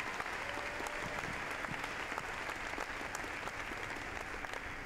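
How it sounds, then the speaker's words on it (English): A large audience at a university freshman convocation applauds the faculty, a dense, steady wash of clapping heard from within the crowd for several seconds. "Another round of applause for our wonderful faculty."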